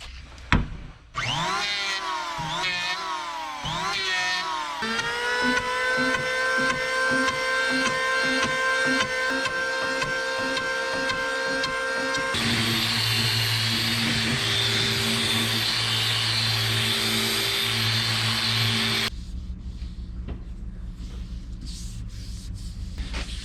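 A power planer shaping the end of a wooden boat part by hand during a wooden motor vessel restoration, droning loud and steady for several seconds among other workshop tones, with no talking.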